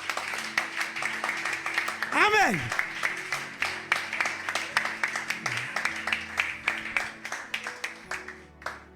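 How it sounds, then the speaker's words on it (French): A church congregation claps in praise during a pastor's sermon, with an even, rhythmic beat of hands repeating throughout. A voice calls out briefly near the start while the clapping carries on. "Applaudis les Seigneur"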